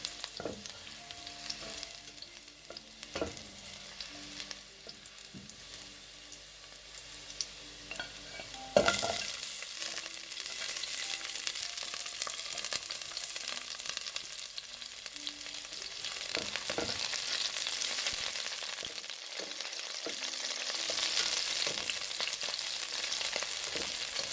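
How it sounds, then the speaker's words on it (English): Garlic, onion and scallion sauté over medium heat in a pan for a chickpea and saltfish stew, giving a steady close sizzle with occasional stirring scrapes that grows fuller and louder partway through, with no talking. "So I will saute the garlic, onion, and scallion."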